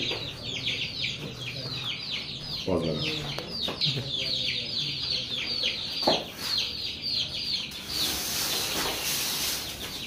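Chicks at a poultry farm cluck and cheep steadily in a dense, continuous chorus, with occasional louder chirps standing out and a voice speaking over them.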